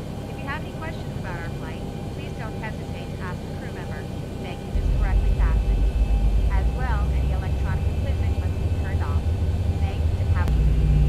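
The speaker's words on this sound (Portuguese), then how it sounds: "já pode ligar os motores" The jet engines of a Boeing 737-800 spool up in X-Plane 11 during pushback, a low rumbling whine that grows louder partway through, while cockpit chirps and speech sounds play over it.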